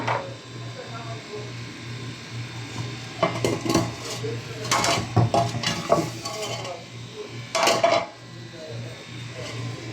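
A lid goes onto a cooking pot of simmering spiced food with several sharp metallic clanks and clatters, over a low steady hum and faint sizzle.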